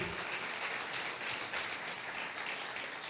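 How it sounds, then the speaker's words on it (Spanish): A church congregation applauds for people baptized the day before, a dense, even patter of many hands clapping together at moderate volume for a few seconds. "Demos un aplauso por esa gente que se bautizó el día de ayer."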